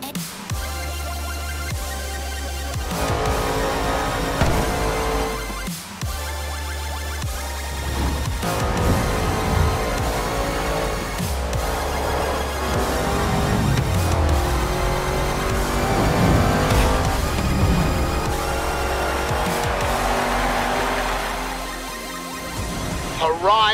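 Race car engines in a Hot Wheels racing video game roar and rev loudly and continuously, rising and falling as the cars accelerate, with music and a voice heard over them.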